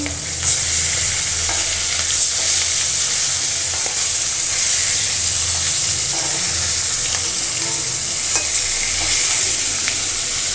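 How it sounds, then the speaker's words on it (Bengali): Fish fries in a pan in a home kitchen, a loud, steady hiss of hot oil that carries on throughout with faint occasional scraping. "এই যে মাছ ভাজি করছি আর এই যে ভাজি করতেছি।"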